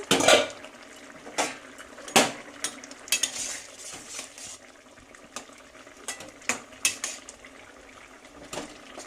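A lid lifted off a pot of boiled vegetables for Bengali shukto, with clinks and knocks of metal cookware and a spoon over a soft bubbling background, heard close.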